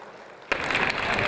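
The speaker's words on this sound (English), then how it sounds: "Please give a round of applause." Audience applause at a Global Village opening ceremony bursts in after about half a second of quiet, then holds as a dense, steady clapping roar to the end.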